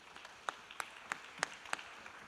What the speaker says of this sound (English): Let's give each one of them a round of applause.